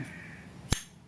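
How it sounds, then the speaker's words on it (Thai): A single sharp metallic click of a fully sealing engine valve closing stands out once against a quiet mechanical background, brief and close. "นี่คือเสียงที่วาล์วที่ปิดสนิทนะฮะ"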